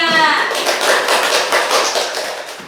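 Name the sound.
classroom applause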